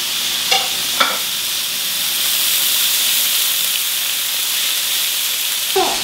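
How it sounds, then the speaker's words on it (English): A pre-salted steak sears in a hot, dry, oil-free pan with a loud, continuous close sizzle and hiss, punctuated by a few brief clanks and scrapes of the pan or utensil. "It has no oil. We get a pretty good sear that way."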